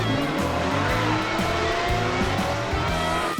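A Hot Wheels Pontiac GTO Judge races a Ferrari SF90 Stradale in a diecast drag race, with a loud, continuous racing-car roar and a pulsing, rhythmic low rumble beneath it.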